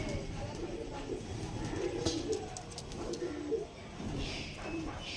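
Andhra pigeons coo in soft, repeated low calls close by, with someone talking over them and faint background noise.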